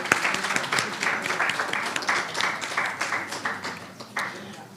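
An audience at a live-streamed UNICEF event gives a brief round of applause, steady scattered clapping from a moderate distance.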